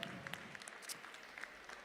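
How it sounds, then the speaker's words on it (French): An audience applauds at a pedigree cat show at the 2024 Paris agricultural fair, with faint, scattered claps rising and falling across a large hall. "n'hésitez pas à les applaudir bien fort."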